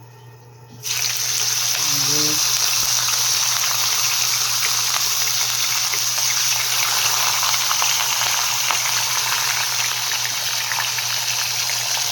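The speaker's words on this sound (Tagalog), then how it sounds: "So let's fry this one" Fish hits hot oil in a pan and settles into a loud, steady frying sizzle that runs continuously after a short quiet start, with a low constant hum beneath.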